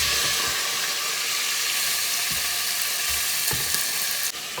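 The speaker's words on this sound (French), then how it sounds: "Je remets un petit peu d'huile de tournesol dans ma casserole et je viens y déposer mes blancs de poulet." Chicken breasts fry in sunflower oil in a saucepan, giving a loud, continuous close-up sizzle with a few soft thumps as the pieces are moved, and no voices.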